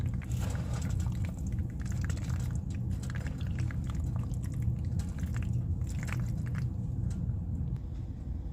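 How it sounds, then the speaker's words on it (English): Boiled noodles are drained and mixed in a pot for a pasta and noodle dinner, giving a steady wet, squishy churning with soft liquid sloshes, close and continuous, with no voices. "Our noodles are boiled and cooked, so we're going to drain them and just throw them right into this pot, mix it all up"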